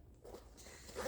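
A zipper slides along the pocket of a vintage bag, a short close scratchy run that grows louder toward the end, with no talking.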